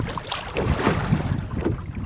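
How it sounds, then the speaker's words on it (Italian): Sailing dinghy running under full sail on the sea off Castiglioncello, Tuscany, in fair wind at about three knots: steady rushing wind and water noise with soft splashing against the hull, fairly close and continuous, with no voices. "stiamo navigando a tutta vela a 3 nodi e 2"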